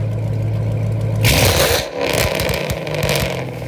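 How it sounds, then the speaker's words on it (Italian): A Ford Mustang GT with open exhausts idles with a low burble, then bursts into a loud, raw rev with crackling pops before dropping back. "la psicopatica Mustang GT con gli scarichi liberi, una roba fuori dal mondo"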